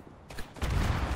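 A single gunshot in the World War I trench shooter Verdun, a sudden loud crack followed by a rolling burst of noise, close and alone in the short clip.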